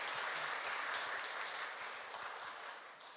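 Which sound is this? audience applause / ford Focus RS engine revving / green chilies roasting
audience applause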